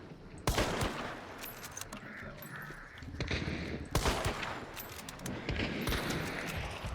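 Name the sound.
gunshots in a video game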